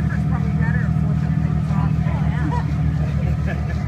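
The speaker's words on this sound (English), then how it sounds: "Shut your engine off? Cut the engine." A yacht's engine drones steadily at close range, a low continuous rumble with a regular pulsing beat, while several people talk and chatter over it.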